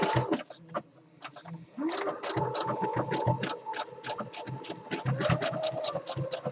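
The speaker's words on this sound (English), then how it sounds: "Do a quick lock stitch." Home sewing machine running a quick lock stitch, a steady fast mechanical needle chatter with short pauses and restarts, close and fairly loud with no talk.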